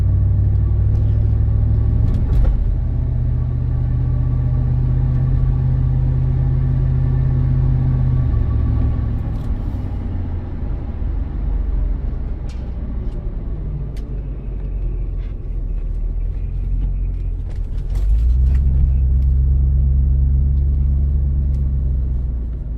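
A 2000 Ford F-150 SVT Lightning engine rumbles steadily, then bogs and stumbles as it accelerates, dropping off mid-stretch before surging back with a low, uneven roar.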